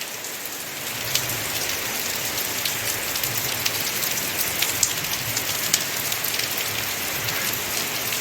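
Heavy rain pours down steadily, a dense wash of hiss with scattered drop impacts, loud and close throughout with no voices.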